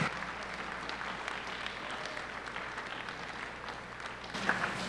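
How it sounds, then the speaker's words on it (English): Moderate crowd applause at a high school yearbook ceremony, even continuous clapping from an audience in a hall, fairly distant and steady throughout. "Please thank them with me in a round of applause."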